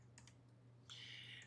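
Quiet computer keyboard typing, a few faint clicks and then a short burst of keystrokes over a steady low electrical hum.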